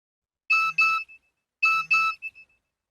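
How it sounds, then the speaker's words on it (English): A mobile phone gives two short bursts of a bright, bell-like message beep, each made of two quick tones with a fading tail, one after the other, clear and close with no voice over them. "My mobile phone beeped."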